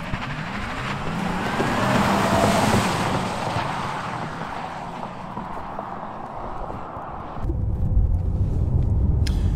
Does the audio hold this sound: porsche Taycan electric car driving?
yes